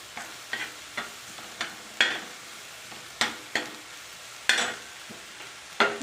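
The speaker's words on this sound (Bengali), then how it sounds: "আস্তে আস্তে নেড়ে নেব।" Small mourala fish stirred slowly in a dry, oil-free pan: a series of distinct scraping strokes, roughly every half second, against a faint background hiss.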